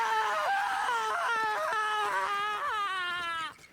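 A child crying out in his sleep from the next room, a sustained wailing, whimpering voice with rising and falling pitch, loud and continuous before cutting off.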